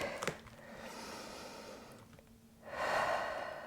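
A deep, slow exhale during a hip-opening yoga practice rises as a soft, close breathy rush near the end, after quieter breathing.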